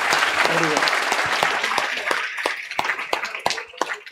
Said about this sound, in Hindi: एक बार जोरदार तालियां बच्चों को यार